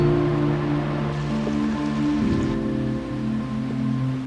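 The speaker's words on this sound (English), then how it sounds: "While we were heading to Yak Kharka, it started raining." Monsoon rain pours steadily on a forest trail near Yak Kharka in Nepal's Manaslu region, a continuous close hiss of drops on leaves and ground with a faint low hum underneath and no talking.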